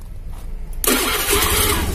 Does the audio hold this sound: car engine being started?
yes